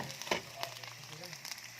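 Sliced corn kernels dropped into a pan with onion and garlic, frying with a soft sizzle, a few sharp clinks and scrapes of a utensil against the pan over the crackle.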